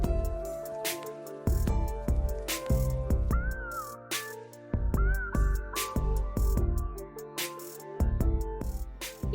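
Pet cats meow a few times, short rising and falling calls standing out over a cluttered, tonal background with sharp knocks and thumps, and no one speaking.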